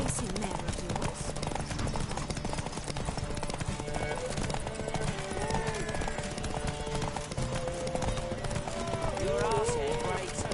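A racing mare gallops in a horse race in The Witcher 3, rapid rhythmic hoofbeats pounding steadily throughout, with voices talking over them and an occasional whinny.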